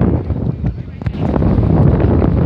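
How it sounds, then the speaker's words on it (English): Gusty wind at a horse racetrack buffets the microphone with a heavy, rumbling roar that swells and stays loud throughout. "Very windy today."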